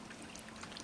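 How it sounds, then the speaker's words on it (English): Fresh water pouring in through ceiling light fittings after 90 mph winds and a power outage, a steady close splashing stream with no talk. "Fresh water coming in through the lights."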